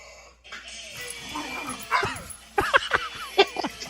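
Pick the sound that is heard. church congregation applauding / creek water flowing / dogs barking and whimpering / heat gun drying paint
dogs barking and whimpering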